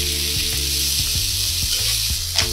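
Steak searing in a preheated, oiled pan, with a loud continuous sizzle close up and faint periodic low thumps beneath it.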